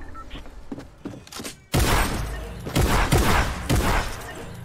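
Tommy gun fire in a shooter video game, quieter bursts at first then a sudden loud stretch of rapid automatic shots in several dense volleys, close and heavy.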